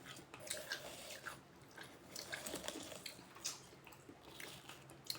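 Someone bites and chews crunchy, juicy watermelon up close, a run of moist crunches and wet chewing sounds with small drips, no talking.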